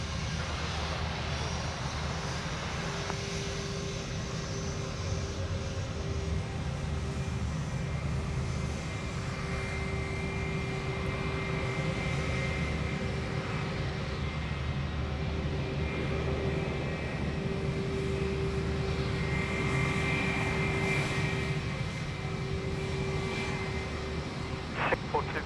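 A SriLankan Airlines jet on its takeoff roll from runway 34 left at Sydney Airport at night, engines roaring continuously with a steady whine, while a controller's radio voice talks over it.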